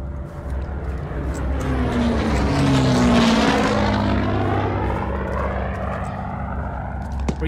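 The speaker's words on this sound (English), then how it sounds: "were you trying to find the plane too?" Propeller engines of a B-17 Flying Fortress in Hell Let Loose drone overhead, swelling louder as the bomber passes close and then receding with a falling pitch shift, a continuous heavy rumble.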